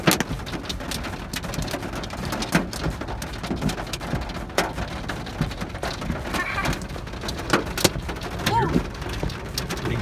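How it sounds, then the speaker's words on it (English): Hail and rain fall outdoors at Mount Rushmore in South Dakota, a steady close patter with scattered sharp pellet hits and a faint voice now and then. "ลูกเห็บนะคะ"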